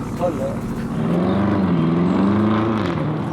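A powerful turbocharged, ethanol-fuelled car engine revs up and holds at a high, droning pitch nearby, with a person's voice briefly heard over it.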